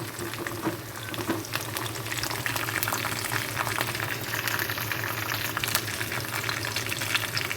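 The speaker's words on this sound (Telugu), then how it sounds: "చూడండి బాగా ఇలా రెడ్ కలర్గా వచ్చేటట్టు అని మొత్తము వేయించుకోవాలండి" Lentils, dried red chillies and curry leaves fry steadily in hot oil, a continuous close sizzle with crackling pops running throughout, no voices.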